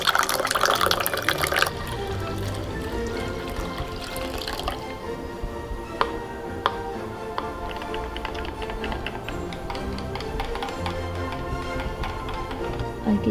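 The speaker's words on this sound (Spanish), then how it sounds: "Vamos a usar jugo de manzana con burbujas." Sparkling apple juice poured for a vegan butterbeer, a steady fizzing, splashing liquid stream with crackling bubbles that runs continuously at close range and stays fairly loud throughout, with no voices.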